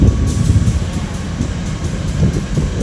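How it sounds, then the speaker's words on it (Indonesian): An airport rail link train arriving at Yogyakarta International Airport station rumbles steadily with low mechanical noise and faint rhythmic clacking, loud and continuous throughout. "Ini keretanya sudah tiba di stasiun kereta api bandara"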